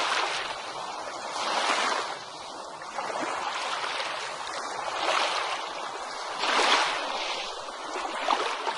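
Ocean waves break on a beach in a steady, full wash of surf that swells and recedes every couple of seconds, with no voices.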